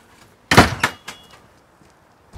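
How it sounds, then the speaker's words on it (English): A door shuts with a sharp thud, followed by a couple of softer knocks and rattles as it settles, then quiet. "Time to close the door."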